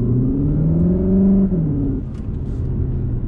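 Cupra Formentor VZE plug-in hybrid in Cupra mode accelerating hard, a close, loud engine note climbing steadily in pitch, then briefly dropping as it shifts and pulling on again.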